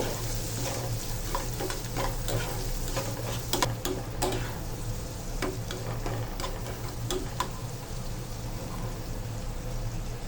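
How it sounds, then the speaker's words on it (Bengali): Tomato, onion and capsicum fry for an egg vegetable pasta, with a constant low sizzle and hum and a scatter of quick spatula clicks and scrapes while being stirred, steady and close, with no voices. "টমেটো দিয়ে দিচ্ছি ও পেঁয়াজ দিয়ে দিলাম এইভাবে কিছুক্ষণ নাড়তে থাকবো"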